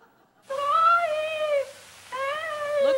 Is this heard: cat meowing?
yes